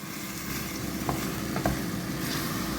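Beetroot pickle with vinegar is stirred in a pan, a dense, loud bubbling sizzle throughout with a couple of soft spoon scrapes partway through.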